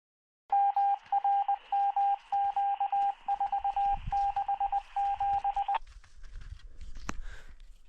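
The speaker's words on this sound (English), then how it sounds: "Someone's broadcasting Morse code on our radio channel." Morse code broadcast over a radio channel during ski touring in Lassen, clear repeated beeping tones in rhythmic bursts of dots and dashes, loud and steady before stopping abruptly, then faint static.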